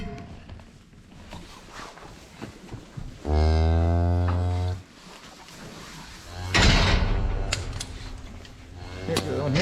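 Close, loud cattle moo from a cow being let out of a pen while a calf is tagged during calving, one long low call in the middle, with a shorter bellow later, amid handling noise and people talking.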